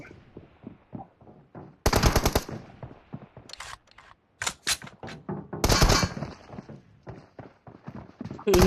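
Gunfire in an online shooter game crackles in short bursts and rapid volleys, loud and close, separated by quieter gaps.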